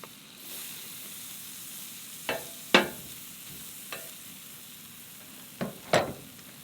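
Teriyaki fried rice stir-frying in a pan while camping in a truck, a faint low background sizzle broken by a few short scraping stirs and clatters at irregular intervals.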